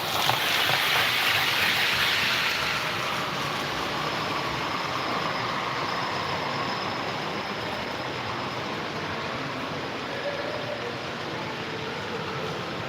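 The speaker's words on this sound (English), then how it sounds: "we've got a train coming up" A model railway train runs steadily along a layout for a long stretch, a continuous close rushing, clattering noise that stays even in level from start to finish.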